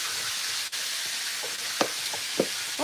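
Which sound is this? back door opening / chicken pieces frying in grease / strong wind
chicken pieces frying in grease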